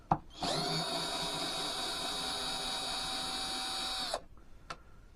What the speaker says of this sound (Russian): Зараз розкрутимо тут. Два длинных самореза.